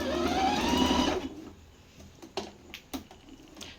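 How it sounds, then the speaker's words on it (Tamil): A tabletop sewing machine runs an overlock stitch in a fast, steady whirring burst for about a second, then stops, followed by a few sharp clicks and small handling knocks. "நான் வந்து ஓவர்லாக் போடுறது 14th ஸ்டிச்சு"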